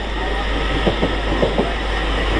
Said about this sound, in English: Leaving us is an LNER Azuma